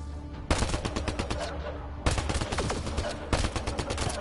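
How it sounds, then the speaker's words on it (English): Gunfire in the sci-fi video game Mass Effect Andromeda: three loud, rapid automatic bursts, each a dense rattle of shots lasting about a second, separated by short gaps, with no talking. "Please stop shooting me."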